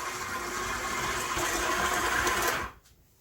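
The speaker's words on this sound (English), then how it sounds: "So here this one goes back on the mixer. Let's get this started. We're just going to start it off on low." Electric stand mixer running on low speed while mixing buttery shortbread cookie dough, giving a steady close motor whir with a slight rattle that stops abruptly near the end.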